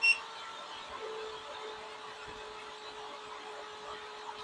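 A MelodySusie SProF dust collector on its lowest setting gives a steady, fairly quiet whirring hum with a faint constant tone, running evenly throughout.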